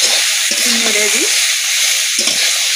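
Cauliflower frying in a pan with turmeric and salt, stirred by hand; a steady loud sizzle runs throughout, with a few scraping strokes of the spatula against the pan.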